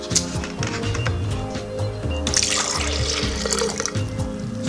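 Watermelon is poured into a blender, a continuous splashing liquid stream with small knocks and gurgles, close and fairly loud.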